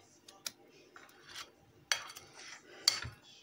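A utensil mixes banana chocolate cake batter in a bowl, giving soft scraping strokes and a few sharp clinks against the bowl, quiet and close, with no talking.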